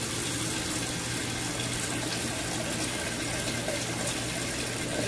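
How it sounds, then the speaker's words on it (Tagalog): Running tap water washing fish in salted water while preparing bagoong, a steady close rush of flowing water throughout with no talking. "3 times niyo pong hugasan na may salt po."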